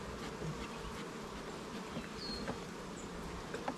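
Honey bees buzz steadily around a beekeeper working a hive with a smoker, a dense continuous hum close by with individual bees passing near, no talking.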